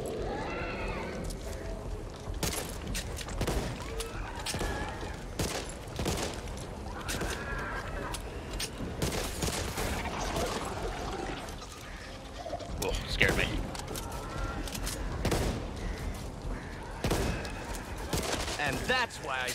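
Gunfire in the zombie shooter Back 4 Blood, rapid bursts and single shots cracking repeatedly over game noise and creature sounds, loud and close, with voices talking over the action.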